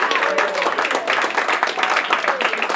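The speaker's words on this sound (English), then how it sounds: "Let's give Ricky a big round of applause" An audience at a comedy showcase gives a round of applause, a lively, dense burst of clapping at moderate distance, with scattered voices and cheers mixed through it.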